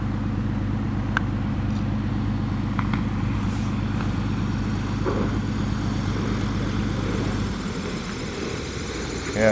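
A small flapped airplane comes down on a backcountry airstrip in Idaho, its propeller engine droning steadily and loudly throughout, then easing off near the end as it settles onto the strip.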